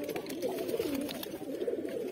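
A baby pigeon in a loft coos softly with low, throaty, repeated murmurs, close and alone.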